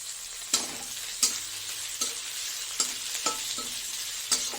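Ten to twelve shrimp fry in a pan with water lily stems, a steady close sizzle broken by sharp scraping stirs roughly every second, with no talk.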